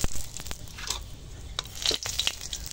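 Bay leaves dropped into hot oil left in a kadai after frying pointed gourd, giving a steady close sizzle with a few brief crackles and spoon scrapes, no talk.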